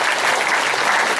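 An audience at a talk on family life bursts into applause, a thick, even wash of many hands clapping throughout, with no voices.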